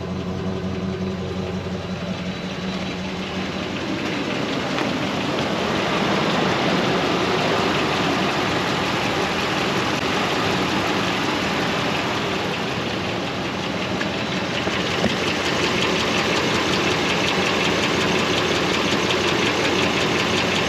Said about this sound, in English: Sounds nice from the exhaust.